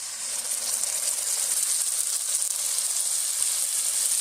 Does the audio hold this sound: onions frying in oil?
yes